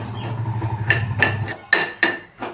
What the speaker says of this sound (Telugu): ఇలా దంచుకోవాలి గట్టిగా దంచితే పిండి అయిపోదు